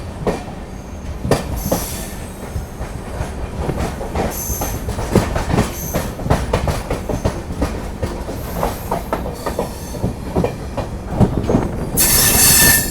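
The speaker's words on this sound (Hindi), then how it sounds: "चलिए दोस्तों निकल गई है ट्रेन" The Dehradun Shatabdi Express passenger train rolls along the rails with continuous rumbling, rhythmic clickety-clack and occasional metallic wheel squeals, loud and close throughout.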